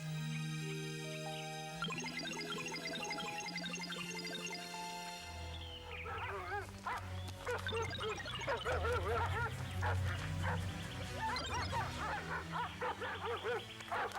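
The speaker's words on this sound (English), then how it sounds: "Where did all these dogs come from?" Several dogs bark and yip excitedly over loud music in a Cinderella cartoon, the barking overlapping in busy bursts.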